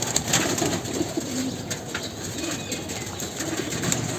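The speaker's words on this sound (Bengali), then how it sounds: "এই কবুতরটা আমার ভালো লাগছে" A male pigeon with purple feet coos steadily in a crowded loft, its soft throaty calls repeating close by with faint wing rustles and no talking.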